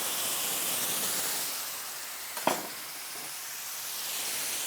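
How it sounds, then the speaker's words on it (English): Cabernet red wine hitting a hot steak pan to deglaze it, a steady close sizzling hiss throughout with one brief sharper scrape or clink midway. "I put in 3/4 cup of cabernet, full-bodied red wine, and now I'm scraping up those brown bits."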